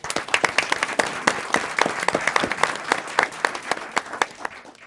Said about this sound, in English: Okay, applause, please.